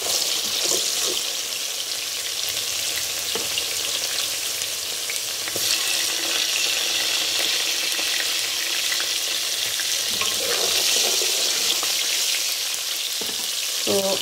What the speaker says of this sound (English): Our oil is ready and I've add our onion.